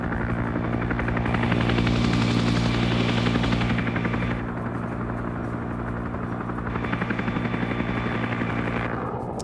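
A helicopter in the video game S.O.G. Prairie Fire, during a convoy operation, makes a loud, continuous rotor thrum and engine roar that swells and eases slightly throughout.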